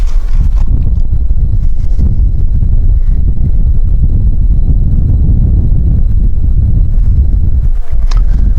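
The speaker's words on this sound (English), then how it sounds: "Got to pause for wind" Strong wind gusting across an outdoor shooting range, a steady low rumble and buffeting on the microphone that runs continuously with no talk.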